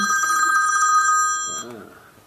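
A mobile phone rings during a classroom speech, a bright repeating electronic ringtone sounding loudly for over a second before cutting off, with a voice starting to talk just after.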